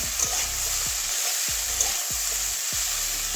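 Potatoes, cauliflower and carrots frying in a pan give a steady, close sizzle, broken every second or so by a scraping stir of the spatula; no one speaks.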